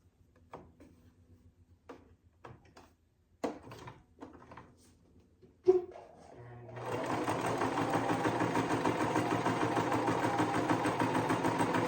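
A Singer 1512 sewing machine runs steadily while stitching zigzag stitches, a continuous mechanical whirr after a few scattered knocks and clicks of setup handling.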